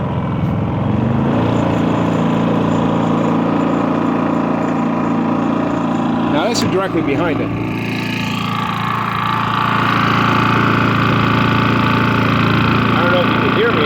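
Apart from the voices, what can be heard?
Harbor Freight 3500 watt super quiet generator running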